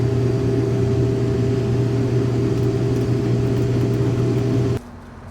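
A farm machine's engine idles steadily while warming up, a loud, even drone with a constant hum that runs unbroken for several seconds before abruptly dropping to a much quieter level near the end.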